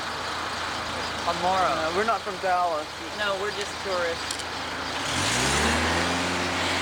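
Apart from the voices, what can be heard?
city traffic in Dallas, Dealey Plaza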